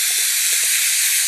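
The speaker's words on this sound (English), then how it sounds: "The steam is actually doing the heavy lifting" A Ladybug steam cleaner hisses steadily on a cork floor, a loud continuous bright jet of steam with a few faint low knocks underneath and a brief fade at the end.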